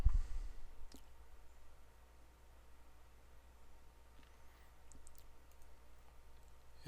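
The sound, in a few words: computer mouse click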